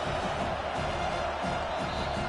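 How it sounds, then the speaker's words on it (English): Stadium crowd roaring to back the home defense on third down at a college football game, a dense, sustained wall of noise with no break. "this crowd will pull out a vocal cord to help this defense"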